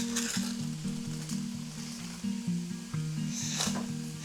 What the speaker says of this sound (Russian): Пока там все жарится